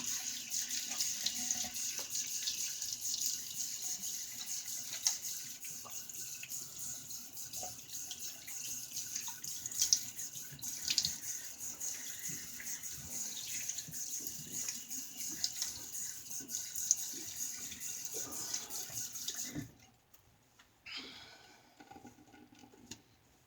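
A bathroom tap runs steadily into a sink while someone rinses off after a shave, with a continuous close hiss and small splashes before the water shuts off and a few quiet clatters follow.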